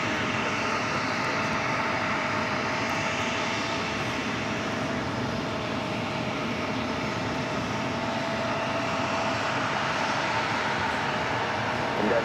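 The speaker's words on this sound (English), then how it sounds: "Kuwait Airways flight 117 coming in from Kuwait City, 777 at 300 yards, just a minute out, heading to 4 right" A Kuwait Airways Boeing 777 on approach to runway 4 Right at New York's JFK airport, heard as a steady broad engine roar that holds at a constant level, with a radio voice talking over it.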